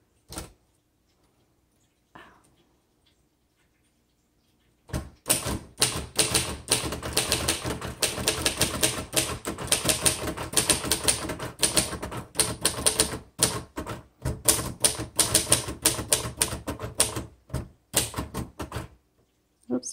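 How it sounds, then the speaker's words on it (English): A 1960s Royal Tab-O-Matic manual typewriter typing in rapid, dense bursts of key strikes with brief pauses, close and loud, after a few seconds of near silence with isolated clicks. "I really like this typewriter."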